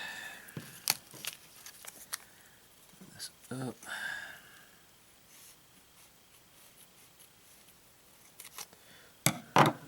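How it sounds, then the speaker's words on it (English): Close scissors snips and crinkly packaging rustle in short bursts between quiet moments as a package holding an RC car aluminum skid plate is opened, with a brief spoken remark near the start. "let's get into this package here. Get my scissors."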